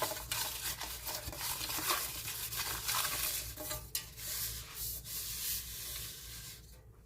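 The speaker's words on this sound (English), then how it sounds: "I am actually greasing my cake pan with my butter wrapper." Soft, continuous rubbing and smearing as a cake pan is greased with a butter wrapper for a double chocolate cake, close and steady with faint scrapes against the metal and no voices.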